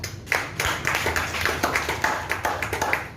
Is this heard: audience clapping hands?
yes